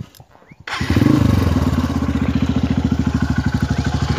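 A motorcycle engine rebuilt with a 190 kit starts up nearby, then idles loud and close with a rapid, even, crackling rhythm that carries on to the end.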